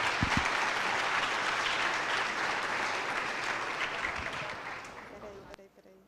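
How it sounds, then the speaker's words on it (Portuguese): Applause from an audience at a design and typography talk event, a full, steady wash of clapping that starts at once and slowly fades out over several seconds, ending with a brief knock. "Queria uma salva de palmas para Elaine Ramos."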